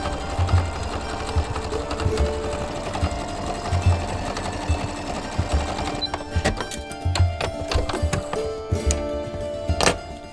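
A sewing machine runs in bursts, stitching fabric for a dress with white thread, its steady mechanical whir close and fairly loud, with brief pauses and clicks between runs.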